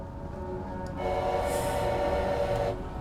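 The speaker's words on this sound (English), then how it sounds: "I heard like the train crossing sound" A railroad crossing signal in the Choo-Choo Charles game, heard as a steady mechanical tone over a rumbling background that swells for about two seconds, then fades, with no talk.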